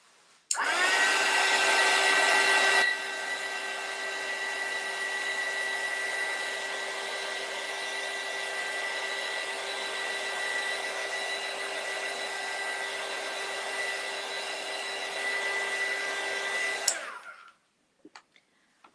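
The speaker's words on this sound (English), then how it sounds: "Let's hit it with the heat gun just a little bit." Heat gun blowing hot air during an embroidery hoop craft: a steady, loud whirring blast that holds for about sixteen seconds, slightly louder at the start, then cuts off abruptly with a few small clicks.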